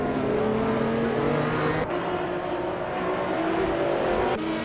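A Nissan GT-R race car engine in a video game race at Monza drones at high revs, steady and loud with a brief gear-change dip, other cars' engines blending underneath, no talking.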